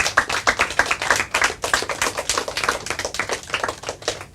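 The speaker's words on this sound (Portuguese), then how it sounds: "Palmas para ela." Dense, rapid clapping from an audience at a Portuguese-language quiz final fills the whole stretch, near and steady with sharp overlapping claps and no voices over it.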